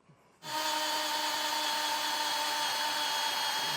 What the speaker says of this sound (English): we're going to just drill these out